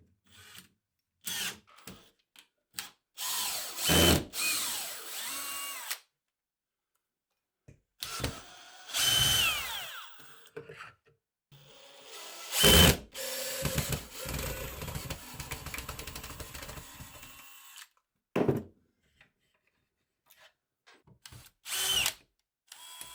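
A power drill removes screws from a wall-mounted tool board, whirring in short bursts separated by silences. Each burst carries a grinding screw-and-wood rub, and one spell runs for several seconds.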